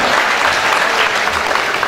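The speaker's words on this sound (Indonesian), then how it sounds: "Beri tepuk tangan untuk SMA Budi Dharma." A school audience at a motivational roadshow in an Indonesian high school claps together in a loud, dense, continuous burst of applause with no pauses.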